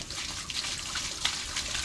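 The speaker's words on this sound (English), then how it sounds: "I'm gonna drain all the fresh water out of the fresh water tank." Fresh water draining out of an RV's fresh water tank in winter, a faint steady trickle and splash of running water, continuous and close.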